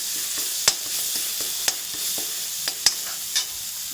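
Ingredients for a green rasam fry in a little oil under a soft, steady sizzle, while a spoon stirs with a few sharp clicks against the pan, close up.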